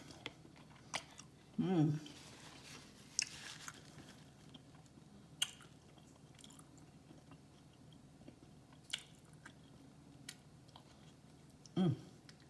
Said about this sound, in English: We'll just taste it on this broken yolk here.